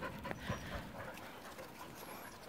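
A dog pants softly during an outdoor walk, quick rhythmic breaths heard faintly at a distance over a low background.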